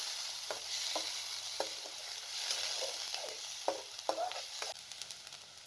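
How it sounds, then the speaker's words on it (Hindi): Minced meat keema fries with browned garlic in a pan, a steady close sizzle broken by repeated scraping and stirring strokes, with no talking. "इसके अंदर कीमा शामिल कर लें और 2 से 3 मिनट तक इसको भून लें"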